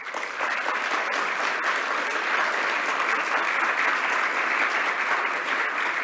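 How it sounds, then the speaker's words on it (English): A seminar audience applauds after a presentation on biodiversity loss in Queensland, with sustained, even clapping from a sizeable crowd, loud and continuous throughout with no speech over it. "Big applause for Stephen."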